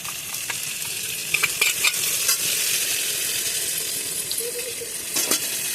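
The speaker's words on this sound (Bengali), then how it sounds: "জল নিয়ে মশলাটা গুলে এর মধ্যে দিয়ে দেবো।" A spice paste of ground ginger, cumin, chilli and water goes into a hot pan for an egg curry, sizzling steadily while a utensil scrapes and stirs with occasional clinks of metal.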